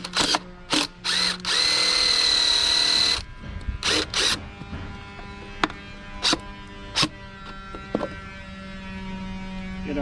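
Cordless power drill whirring in short bursts and one longer run while driving screws into an HVAC mount, with clicks and ratcheting between pulls over a steady background hum.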